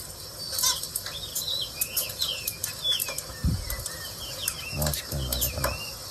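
Cockatiel calling in a home, short chirps and whistles repeated near the microphone amid wing flutters and light rustling.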